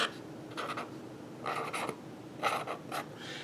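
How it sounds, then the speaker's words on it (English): A marker writes a label on tape on a sugar storage container, making several short bursts of scratchy squeaking strokes, close and quiet, with pauses between the words. "So I'm just going to write up here sugar."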